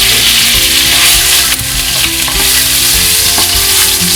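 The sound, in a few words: fennel seeds and chili flakes sizzling in hot oil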